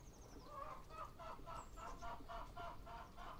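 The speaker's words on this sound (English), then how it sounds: "Anybody else hear chickens or am I losing my mind?" Chickens clucking in a rhythmic run of short, repeated calls, fairly faint and heard alone in the Detroit: Become Human video game.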